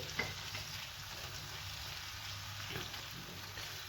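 Sausage for an Alexandrian sausage sandwich frying with peppers, paprika and salt in a pan, giving a steady, close sizzle as the mix is stirred, with a brief clink of the spoon near the start.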